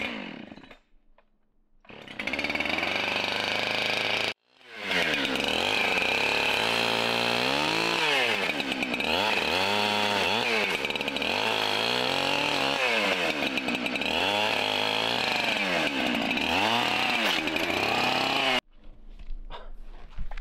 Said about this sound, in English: And I'm gonna go chainsaw.